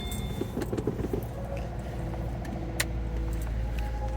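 Supercharged FB25 engine cranking and catching, a low steady rumble that settles into a near, continuous idle with a few light clicks over it.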